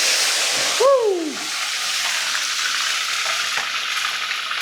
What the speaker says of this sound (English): It's still splashing on me.